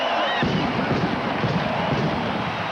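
Sharp, gunshot-like bangs echo through a football stadium during a 2000 CFL game between the BC Lions and the Hamilton Tiger-Cats: a sudden loud burst, then dense, sustained noise.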